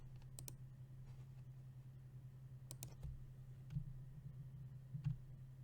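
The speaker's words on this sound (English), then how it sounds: "Enter on my keyboard will move me to the next cell in the column" Keys tapped on a computer keyboard while entering data in a spreadsheet, a few soft scattered clicks over a steady low hum, with two slightly louder presses near the end.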